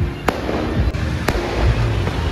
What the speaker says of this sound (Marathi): फटाके पण फुटतायत.